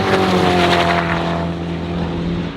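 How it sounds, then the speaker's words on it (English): A Koenigsegg supercar blowing past a Porsche GT2 RS on a racetrack: a loud, sustained engine roar with a strong tonal drone that slowly fades as the car pulls away. "that was the Koenigsegg right there, blowing past the GT2 RS"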